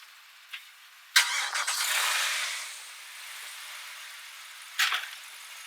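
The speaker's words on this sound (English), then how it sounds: "Fire my motor back up." A Volvo Penta 5.0L V8 inboard/outboard boat engine, one of a twin installation, cranks and catches with a sharp burst, then settles into a steady idle; a second short rev follows near the end.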